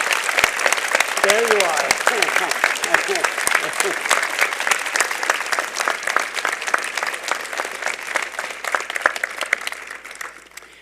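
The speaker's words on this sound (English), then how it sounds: "Could I have a round of applause for Professor Simons?" An audience at a university convocation ceremony gives Professor Simons sustained, dense applause that tapers off near the end, with a brief spoken remark over the start of the clapping.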